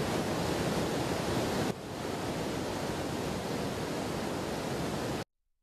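Broadband rushing of flowing water and waves fills the scene, steady and loud throughout, with a brief drop in intensity early on before the roar continues until it cuts off abruptly.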